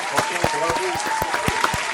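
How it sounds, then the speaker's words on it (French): A small group applauds on a live-streamed talk show, giving sparse, distinct claps in an uneven rhythm that are close and moderately loud, with faint voices behind them. "Est-ce qu'on peut l'applaudir, s'il vous plaît?"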